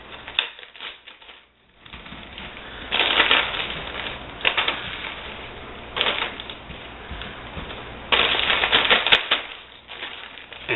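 Beef jerky snapped and torn into bite-size chunks by hand, close dry crackling bursts coming in irregular clusters between quieter pauses, no talk.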